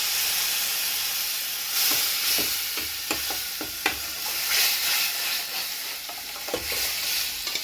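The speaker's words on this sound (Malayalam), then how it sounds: "പരിപ്പ് ഇതിനകത്ത് ഒഴിച്ച് നല്ലപോലെ ഇളക്കുക." Toor dal curry is stirred in a hot pan, with a steady hiss of sizzling and intermittent scraping, soft clicks of a spoon against the pan, close and continuous without talk.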